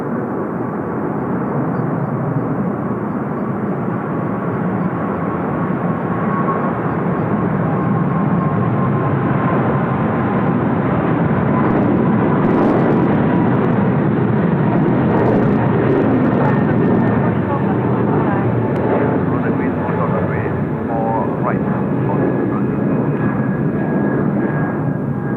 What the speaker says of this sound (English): Love A380s.